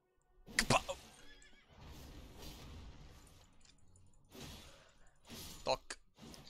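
A horse in the Elden Ring video game whinnies in short bursts over sparse hoof clops, while a person talks intermittently in between.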